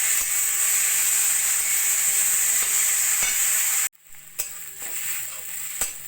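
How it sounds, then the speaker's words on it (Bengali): Grated carrot fries in ghee with bay leaf and cardamom for gajorer halua, a dense close sizzle under steady stirring, then a sudden cut to a quieter stretch of softer frying with sharp spatula scrapes and taps against the pan. "গাজর এইভাবে নাড়া দিয়ে দিয়ে একদম ভাজা ভাজা করে নিয়েছি।"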